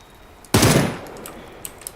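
A Beryl rifle fitted with a compensator fires in PUBG, with a sudden loud report that decays over about half a second, followed by a few faint distant shots.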